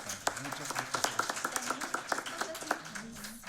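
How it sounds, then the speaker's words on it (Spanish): A small audience at an academic lecture claps in thin, fairly sparse rhythm, the individual hand claps distinct and moderately quiet, with voices murmuring underneath. "también un aplauso para nuestra comentarista"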